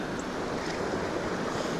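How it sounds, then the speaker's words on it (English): A small waterfall on a river gives a steady, full rush of falling water, close and loud and unbroken, with no voices. "You come to the little waterfall at here, tiny little thing"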